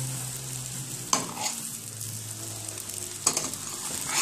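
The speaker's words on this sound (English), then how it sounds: "stirring this around. And it's an ackee and saltfish fried rice" Ackee and saltfish fried rice is stirred in a hot pan, with a steady sizzle running throughout and two sharp scrapes of the utensil against the pan, close by and with no voices.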